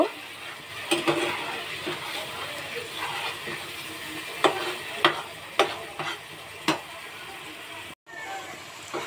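Spice masala for a prawn curry with mustard and coconut frying in a pan, a steady sizzle punctuated by repeated scraping stir strokes, close and moderately loud, with a brief dropout near the end.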